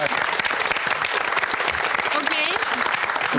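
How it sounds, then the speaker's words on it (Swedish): A studio audience on a morning TV news show applauds, dense continuous clapping with voices mixed in. "Kan hjälpa mig att ge Magnus en applåd för att han har ansträngt sig"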